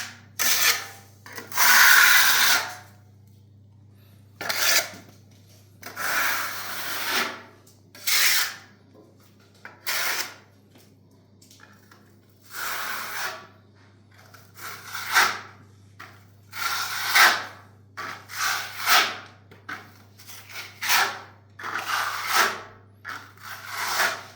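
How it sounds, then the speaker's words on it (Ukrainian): Clay plaster rubbed by hand into a wall surface during the first coat, heard as repeated close rasping strokes in irregular bursts with short quiet gaps between them. "беремо і починаємо її втирати в поверхню"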